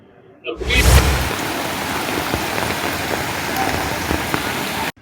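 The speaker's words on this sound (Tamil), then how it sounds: "நீலகிரி மாவட்டம் பந்தலூர் மற்றும் சுற்றுவட்டார பகுதிகளில் கடந்த 2 நாட்களாக தொடர்ந்து மழை பெய்து வருகிறது." Steady rain falls across Pandalur in the Nilgiris district, a dense even hiss of drops on surfaces that starts with a brief louder rush and then continues unbroken and fairly loud.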